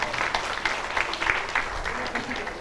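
Brief burst of clapping at a community ration kit distribution gathering, moderate crowd of hands patting steadily with some voices mixed underneath.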